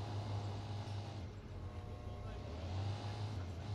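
A car idles in Sleeping Dogs with a low, steady engine hum and faint rumble throughout, fairly quiet, with speech mixed in.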